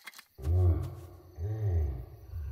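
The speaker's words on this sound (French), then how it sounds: "Vous avez entendu ça, Hippolyte? Rassurez-vous, Odile, j'ai toujours mon spray anti-ours sur moi" Deep animal roars from a cartoon bear in a forest, two long loud roars with a shorter one starting at the end, no talking.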